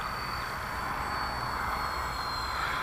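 A Grand Cruiser RC model airplane with added wing spars flies past, its engine giving a steady, whining drone with a thin high tone over a broad hiss, continuous and fairly loud with no talking.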